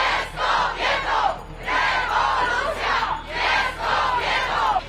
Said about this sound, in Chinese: 高举标语，大呼口号，要求将法案撤回